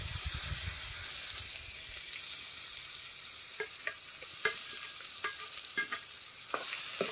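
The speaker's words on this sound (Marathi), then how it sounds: "आता हे सौदा तेलात चांगला भाजून घ्यायचा तेल सुटूस" Ground masala paste roasts in oil over a wood-fired chulha for an egg curry, giving a steady broad hiss and crackle. Several sharp spoon scrapes and stirring clicks come in the second half, with no talk.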